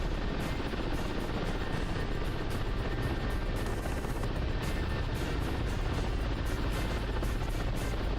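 A helicopter flies in the DCS World flight simulator, its rotor and turbine giving a dense, continuous roar that stays constant throughout and sounds close and loud. There is no speech.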